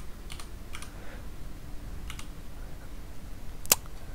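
Sparse taps on a computer keyboard, a few faint separate clicks spread over several seconds and one sharper keystroke near the end, against a quiet background hiss.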